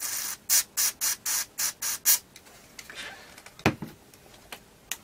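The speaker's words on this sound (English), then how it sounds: "just get a little bit of the spray grease onto a piece of cardboard" Spray grease hisses from an aerosol can onto a piece of cardboard in seven short, evenly spaced bursts, close and crisp, followed by quiet clicks and handling noises.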